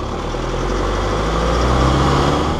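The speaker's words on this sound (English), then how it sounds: "simply because that engine speaks to you" 2019 Toyota Landcruiser Prado with a 2.8 litre diesel engine, a steady low rumbling drone with constant loudness, heard alone without voices.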